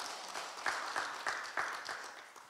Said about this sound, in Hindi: क्यों ना जोरदार तालियों के द्वारा उनको हम बधाई दें।